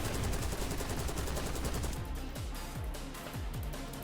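Rapid automatic gunfire from the Krig 6 rifle in a Call of Duty game, a steady fast stream of sharp, evenly spaced shots sustained over several seconds at moderate level.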